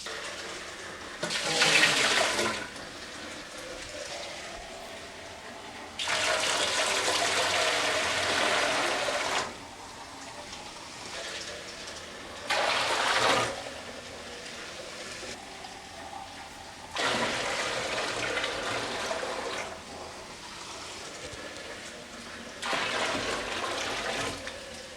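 Water running from a tap into a large homebrewing bucket in bursts, several separate pours of a few seconds each with brief pauses between, a steady rushing splash close by with no talking.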